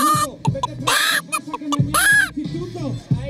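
A voice imitates a hen clucking in a series of short, bright, rhythmic bursts, close and fairly loud, with speech mixed in around it.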